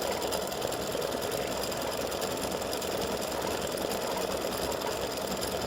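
An embroidery machine stitching out a triangle clover pendant, a steady fast mechanical chatter that hums continuously at moderate volume with no talk.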